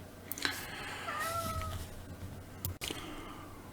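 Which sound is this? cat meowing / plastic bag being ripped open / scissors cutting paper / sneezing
cat meowing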